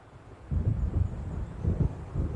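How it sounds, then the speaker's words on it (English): A thunderstorm approaching in the video game Alan Wake: a low, heavy rumble swells in after a quiet start and rolls on steadily, with wind-like noise underneath. "It seems there's a storm coming."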